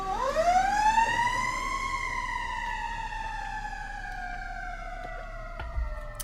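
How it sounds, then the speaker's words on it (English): Emergency vehicle sirens wail outside, passing by with several rising and falling tones layered together, loud and fairly close, with no talking. "I'm going to hold for sirens"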